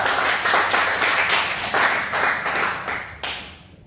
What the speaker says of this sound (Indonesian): berikan tepuk tangan untuk Risa.